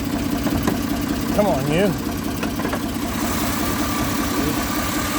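A Chevrolet Monte Carlo's 3.4-litre 3400 V6 idles steadily at close range with a low, even rumble, while someone speaks briefly over it.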